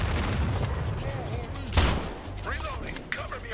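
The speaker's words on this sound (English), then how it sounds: "as long as I shoot them before they get within gun range, we're golden, man" Gunfire from shooting at enemies in a video game, a steady dense burst of shots continuing throughout at close range, with one sharper loud shot near the middle and a voice talking in the background.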